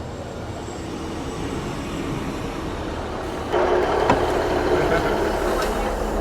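A train ride in Wales, with the steady rumble and hum of the rail carriage rolling along, growing louder partway through, and people talking over it.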